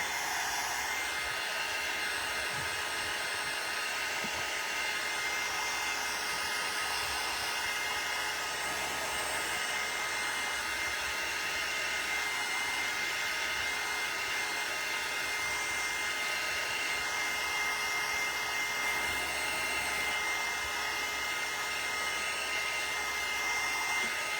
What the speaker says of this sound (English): Now I'm going to take the dryer and kind of melt it on there a little bit.